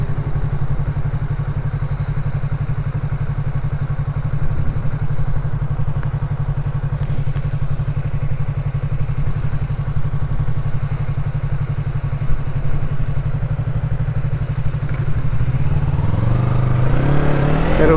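Yamaha MT-03 with a GRS full exhaust idling steadily with a deep, even burble, then starting to rev near the end, recorded close by.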